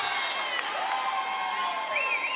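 A crowd at a high school volleyball match cheers and shouts steadily throughout, a lively, sustained roar of voices with some higher yells rising above it.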